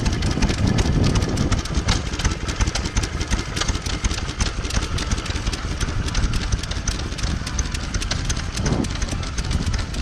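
An old stationary engine runs at the Henham steam rally, its exhaust pounding into the grass below in a rapid, steady chugging beat that stays loud and close throughout.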